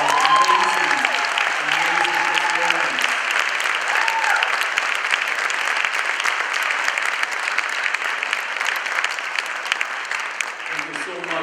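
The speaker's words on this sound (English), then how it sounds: "please let's give them another round of applause" An audience claps steadily and fully for a gospel choir at a community sanctuary gathering, sustained applause throughout with a voice speaking over it at the start and end.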